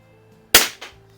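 A single sharp crack from a Crosman 760 air rifle fired at a paintball, close and loud, followed a moment later by a softer impact pop.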